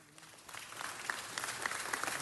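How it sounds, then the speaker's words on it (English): Audience at a city council meeting applauding, a steady patter of clapping from a moderately sized crowd that swells slightly and holds, heard at a modest distance without talk. "Let's say hello. Big round of applause."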